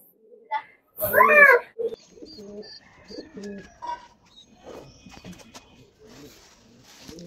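High-flying pigeons in a loft coo softly and repeatedly at close range, with one louder, brighter call early on and low throaty murmurs continuing afterward.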